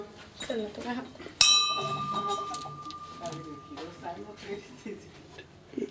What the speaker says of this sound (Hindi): एक बार घंटी फिर से बजाते हैं